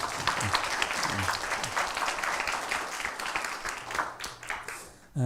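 A chapel congregation at a university service gives a round of thankful applause for a worship leader: sustained, moderately loud crowd clapping with a few faint voices beneath, ending abruptly.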